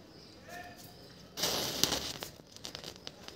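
Firecracker gunpowder from a thread-pull cracker is set alight, bursting into a sudden fizzing, crackling flare with sharp pops that sputters on for a couple of seconds after a quieter start.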